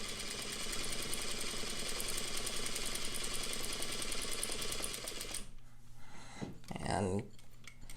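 A sewing machine stitches lines on paper, its steady motor hum and rapid needle clatter running loud and continuous for several seconds, then stopping briefly before a short restart as the handwheel is turned.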